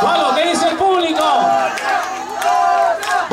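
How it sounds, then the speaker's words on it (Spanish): An outdoor crowd at a charity show in a town plaza cheers and shouts loudly for a Bolivian singer, a rising roar of voices, excited and sustained, filling the space all at once. "el aplauso más grande para este cantante boliviano"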